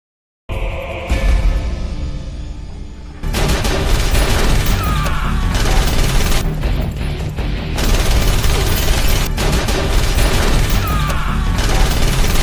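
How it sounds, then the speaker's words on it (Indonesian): A film shootout erupts in a room as a gunman fires two guns at the guards, with dense, loud, continuous rapid gunfire, crashing impacts and booming hits layered over a constant action soundtrack. "si Forsepen menembaki seisi ruangan menghabisi para penjaganya yang ada di sana"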